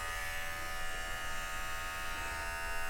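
An Oraimo Smart Clipper 2 cordless hair clipper runs steadily close by, a constant electric buzz with a bright whining hum that holds even throughout without pauses.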